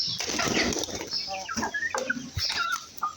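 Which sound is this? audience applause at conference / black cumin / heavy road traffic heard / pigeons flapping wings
pigeons flapping wings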